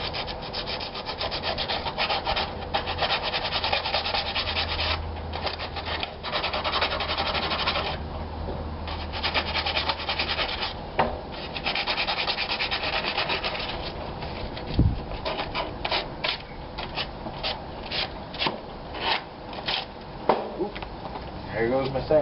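A wooden war club is sanded by hand with sandpaper in steady, close back-and-forth rubbing strokes, running continuously and growing more rhythmic toward the end, with a voice talking over it.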